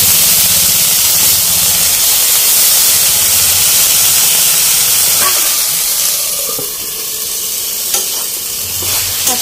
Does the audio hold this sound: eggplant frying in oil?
yes